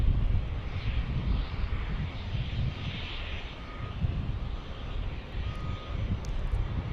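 Aircraft engines rumble at Dallas Love Field airport, a continuous low roar from a jet on the ground, moderately distant and steady, with faint higher whine and wind.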